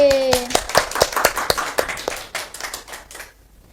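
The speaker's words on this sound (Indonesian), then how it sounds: "Beri tepuk tangan buat Ade." Children in a second-grade primary school science class clap their hands for a classmate, a burst of close, sharp claps in an uneven rhythm that thins out and fades over a few seconds.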